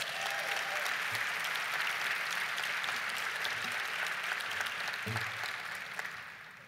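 Sustained audience applause for a panel of educators at a White House education initiative event fills the room evenly, dense and steady, tapering slightly at the end.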